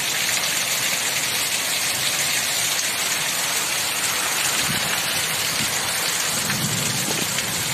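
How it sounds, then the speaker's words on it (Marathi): A heavy summer downpour pours loudly and steadily in rural Baramati, with low thunder rumbling in the background and no pause in the dense hiss of rain. "आमच्याकडे कसा मुसळधार पाऊस पडतोय"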